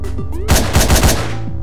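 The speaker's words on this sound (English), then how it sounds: "Oh, machine gun." Machine gun fire in Hotline Miami, a quick loud burst of about five punchy shots in rapid rhythm, layered over the game's pulsing synth music.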